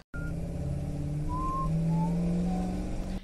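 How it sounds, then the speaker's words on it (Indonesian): A car driving in a film scene, a steady engine hum holding throughout with a few faint whistling tones over it, no talk. "Araf dan Ayus pergi dari rumah untuk bersenang-senang menggunakan mobil kakaknya."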